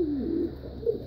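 Pet pigeons or doves give soft, low cooing calls, two or three gentle rolling coos close by in a quiet room.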